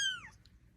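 A tiny four-week-old charcoal kitten gives one short high-pitched meow that falls in pitch, followed by faint background noise.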